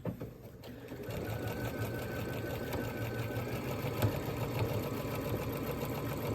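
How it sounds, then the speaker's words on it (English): A sewing machine stitches zipper tape to a dish drying mat, running at a steady fast pace with an even mechanical whir and no talk. "I'm gonna put this raw edge of the zipper tape against the raw edge of my dish drying mat and simply sew it again at 3/8 of an inch."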